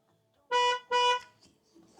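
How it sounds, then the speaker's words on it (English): Two short horn honks from a 2017 Chevy Sonic 1.8 during a tire sensor relearn, fairly loud and close, followed by faint background noise. "Your car's gonna honk it up"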